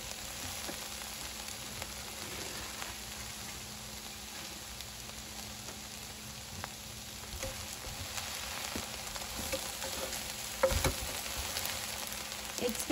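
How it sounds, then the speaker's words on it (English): Frozen mixed vegetables, including corn, carrots, peas, green beans and lima beans, go into a hot pot of homemade beef barley vegetable soup. A faint, steady sizzle and crackle continues throughout, with small pops near the end. "Now I'm going to add in a 2-pound bag of frozen mixed vegetables."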